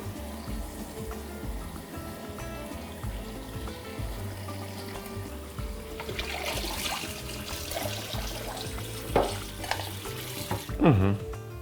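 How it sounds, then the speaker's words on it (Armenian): One cup of fine bulgur being rinsed under a running kitchen tap: a steady rush of water with splashing and clatter that grows busier toward the end. "Մեկ բաժակ լվանում ենք հոսող ջրի տակ"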